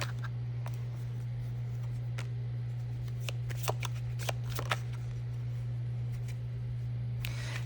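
A deck of tarot cards is shuffled close up, with soft papery riffles and scattered crisp flicks and snaps over a steady low electrical hum. There is no talking.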